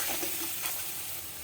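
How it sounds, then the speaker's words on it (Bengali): Beetroot frying in a pan makes a continuous close sizzle with a faint stirring texture, brief and steady, with no voices. "এটা একটু ভাজা ভাজা হবে।"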